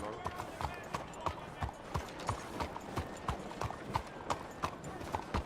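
Rhythmic clip-clop of horse hooves galloping steadily in Red Dead Redemption 2, close and even-paced, with an occasional faint whinny and a voice talking over the hoofbeats.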